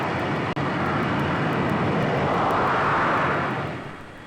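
Heavy jet airliner roaring down the runway on its takeoff roll, a loud, steady broadband rumble and whine that holds near and constant for several seconds before starting to fade.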